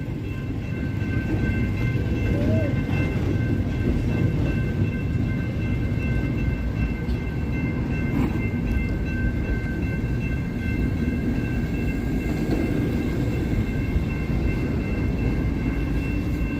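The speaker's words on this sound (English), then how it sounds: "Oh, train ended." Steady low rumble and rattling of a train rolling past at moderate distance, continuous and unbroken throughout with no voices.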